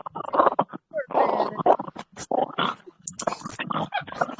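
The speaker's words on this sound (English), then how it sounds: "The dog is playing. He sounds like a gremlin from hell." A playing dog grunts, snorts and makes throaty growling noises in a rapid, irregular stream of close, loud bursts indoors.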